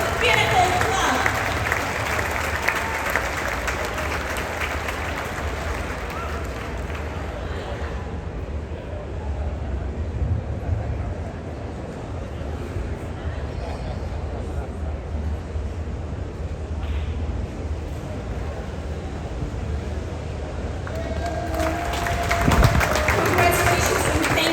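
Guests at a top-tier loyalty event aboard the cruise ship Wonder of the Seas are applauded in the Pinnacle Club; crowd clapping and murmur rise at the start and swell again near the end, with a voice speaking between.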